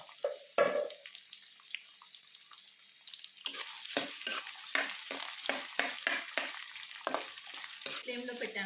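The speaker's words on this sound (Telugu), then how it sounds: "జీలకర్ర, కరివేపాకు వేసాను కదండి, వెంటనే ఉల్లిపాయలు వేస్తున్నాను." Onions sizzling in hot oil in a pan with cumin seeds and curry leaves, steady crackling frying with repeated stirring scrapes, loud and close after a quieter start.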